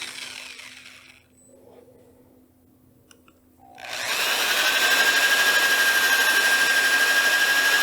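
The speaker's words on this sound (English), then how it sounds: "So with the lathe off, I'm going to spot sand that area." Power sander spot-sanding a wooden platter on a stopped lathe: quiet hum and a small tap, then the sander starts and runs as a loud, continuous, close whirring hiss.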